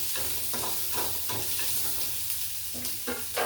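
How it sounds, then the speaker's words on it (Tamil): Onions sautéing in a pan for a bitter gourd curry, a steady close sizzle broken by several rhythmic bursts of stirring and scraping, with no voices. "இப்போ வந்து இந்த வெங்காயம் வந்து வணங்கிட்டு இருக்கு"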